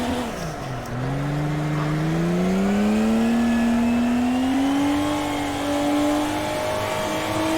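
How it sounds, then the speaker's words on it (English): A drifting car holds high revs at around 100 on a track, its engine note dipping briefly and then climbing in a steady, loud, sustained whine with clear harmonics close by. "High revs, very little wheel spin because we are actually going 100-ish."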